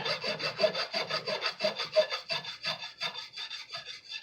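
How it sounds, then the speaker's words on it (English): A file rasps steadily across a guitar fret, dressing it down to the wooden fretboard, in fast regular back-and-forth strokes close up with no talking. "I'm no longer filing down any metal."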